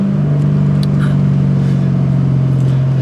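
A 1996 SN95 Ford Mustang SVT Cobra on the road, its V8 rumbling loud and steady from inside the car with a deep, even engine drone and faint ticks over it.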